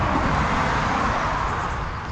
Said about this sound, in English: You can no doubt hear the traffic